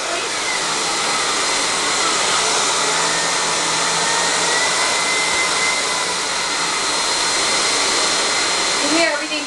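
A Miele S4 Neptune vacuum cleaner with a spinning turbo brush runs at full power, giving a steady, loud, close whooshing roar that holds evenly throughout and ends with a brief clatter.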